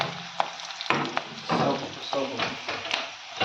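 Onions and turmeric sizzle and fry in a pan, a steady crackling hiss broken by several sharp stirring scrapes, close and fairly loud, with faint talk in the background.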